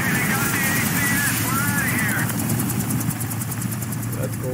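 A helicopter in the video game Modern Warfare 2 drones steadily and loudly throughout, its rotor chop pulsing under voices speaking over it.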